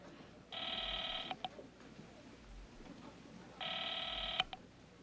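A hotel house telephone rings unanswered, two electronic trilling bursts about three seconds apart, each close to a second long, over quiet room tone.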